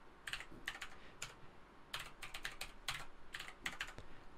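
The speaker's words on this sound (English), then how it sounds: "I can put in a passphrase here." Typing a passphrase on a computer keyboard while setting up drive encryption: quick clusters of crisp key taps come in uneven bursts with short pauses, close and fairly quiet, with no talking.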